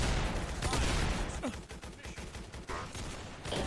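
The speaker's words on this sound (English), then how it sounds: "Upal DB is a basic double barrel shotgun, racking up big damage at close range" Gunfire from the Upal DB double-barrel shotgun in the video game Typical Colors 2, with several loud, sharp blasts over a busy game soundscape, the heaviest bursts coming in the first half.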